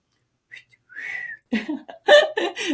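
A person whistles a short tune, with a few brief pitched notes followed by a louder series of bright whistled bursts, close and clear with no talking.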